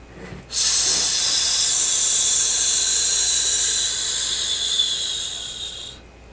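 A long, forceful exhale for the Metal element healing sound in a qigong-style daily flow: a steady, loud breathy hiss that starts abruptly and holds for about five seconds before fading out, close to the microphone.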